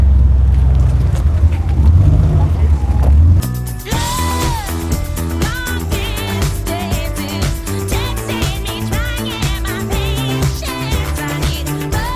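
Ferrari 458 sports car during a track driving course, with a loud engine note that starts abruptly and holds a steady, sustained roar with rising and falling pitch, recorded close.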